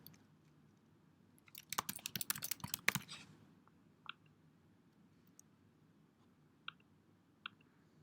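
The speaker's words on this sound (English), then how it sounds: "go ahead and type in your name and your email address" Someone types a name and email address on a computer keyboard, a quick close flurry of clicky keystrokes lasting about a second and a half, followed by a few isolated key taps in a quiet room.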